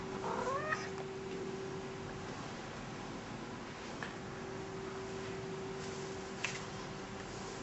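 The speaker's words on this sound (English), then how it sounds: "This is George, my cat." A domestic cat gives one short rising meow near the start, then stays mostly quiet over a steady faint hum in a home room, with a couple of soft small sounds later and no talking.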